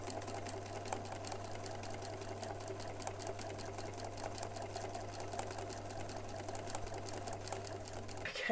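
A sewing machine stitches fabric strips together for rainbow bunting, running in one steady, continuous mechanical whir with a low hum throughout, close and alone with no talking.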